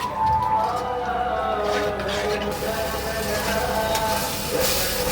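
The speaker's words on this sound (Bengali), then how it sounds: "মশলাটা কষানো হচ্ছে" Spice masala with salt and a splash of water sautés in a pan for a potol and masoor dal dish, a steady, fairly loud hissing sizzle throughout.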